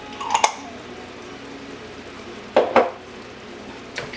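A spoon stirring caramel apple filling in a pot scrapes and clinks against the metal in three short bursts, two close together, near and moderately loud, with quiet pauses between and no talking.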